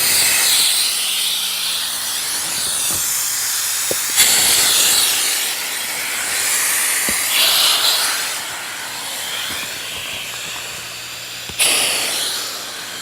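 Air hisses steadily and loudly out of the open valves of an inflatable Kampa caravan awning as it deflates, a continuous rushing stream with slight surges and a few faint clicks.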